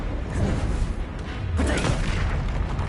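Confringo explosion spell blasting in the Hogwarts Legacy video game, a loud booming burst with a crackling rumble, a second heavier blast following about halfway through.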